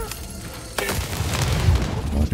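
Bow shots fired in the video game Lost in Random, a burst of impacts and booms starting partway through, loud and dense with low-end punch, over continuous game noise.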